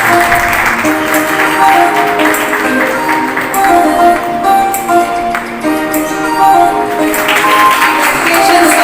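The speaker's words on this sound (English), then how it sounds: "Put your hands together and applaud him." An audience applauds a teacher, Sir Himanshu Datta, at a Mount Carmel Day celebration, with steady, sustained clapping that runs under sustained musical tones for the whole stretch.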